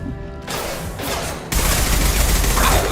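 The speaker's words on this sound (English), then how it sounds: "Firing concussive shot" A concussive shot goes off in Mass Effect 2 Legendary Edition, a sudden heavy blast that cuts in sharply and lingers as a sustained roar of battle noise, with no talking.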